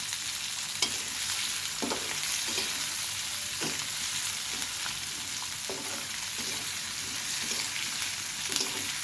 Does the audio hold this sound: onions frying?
yes